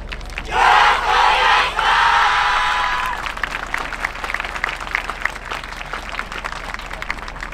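A festival audience at the Inuyama dance festival bursts into loud cheering and applause that swells for about three seconds, then gives way to scattered rhythmic clapping.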